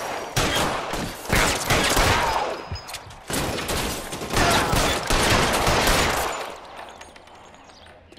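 Gunfire from the L.A. Noire video game crackles in dense, overlapping volleys of sharp shots, loud and rapid through most of the stretch before thinning out toward the end.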